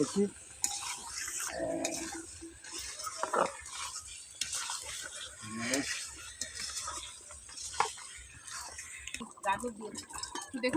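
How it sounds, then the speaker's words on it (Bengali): A spoon scrapes and stirs through rice and lentils cooking into khichuri in a pot, with a soft sizzle and clinks against the metal, and a voice talking quietly over the steady stirring. "একটু ভালো করে নেড়ে নেবো দেখুন"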